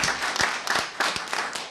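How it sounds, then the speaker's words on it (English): Audience clapping at a comedy roast, a short burst of fairly loud applause with sharp individual claps standing out, heard alone. "Don't clap too hard."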